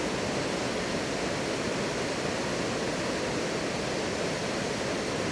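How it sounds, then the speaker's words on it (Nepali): The flooded Bagmati and Bishnumati rivers rush together at their confluence, making a loud, unbroken roar of churning water that holds steady from start to finish. "विष्णुमती र बागमती सँगमा ओर्लिएको यो भेले प्रकृतिको मूड के हो र यसको अवस्था के हो भने दर्शाउँछ।"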